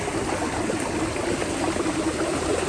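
A mountain stream in the Skardu valley rushes and gurgles with a constant, close wash of flowing water that stays even throughout.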